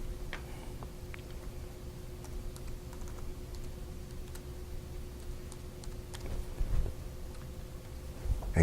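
Login credentials being typed on a computer keyboard for a Windows 8 hotspot captive portal: quiet, irregular keystroke clicks close by over a low room hum, with no talking.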